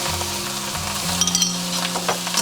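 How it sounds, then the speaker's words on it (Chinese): Teriyaki chicken fried rice is stir-fried in a pan over high heat, giving a continuous close sizzle with quick scrapes and tosses over a steady low hum. "把水分炒干，先让这个米饭跟这些食材全部充分融合"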